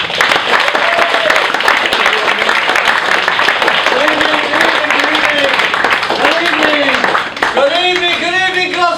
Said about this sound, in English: Please, give it up, and clap till he gets actually to the microphone